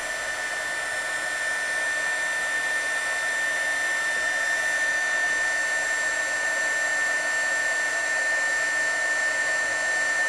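A heat gun blows steadily to shrink heat-shrink tubing on a cable, giving a constant whirring hiss that stays even and close throughout, with no talking.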